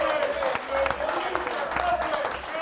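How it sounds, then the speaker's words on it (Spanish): A TV studio audience on an Argentine late-night talk show applauds with steady, dense clapping throughout, a host's voice and music tones faintly audible over it. "Voy a pedir un aplauso."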